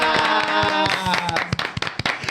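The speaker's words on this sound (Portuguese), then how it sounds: "Uma salva de palmas pras meninas!" Clapping for guests on a podcast set, scattered claps that thin out into a few separate hand claps, heard under a voice and some music-like tones.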